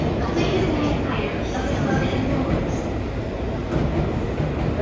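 A commuter train pulls out of a platform at Tokyo Station with a steady low rumble and wheel noise, while a station announcement plays over it the whole time.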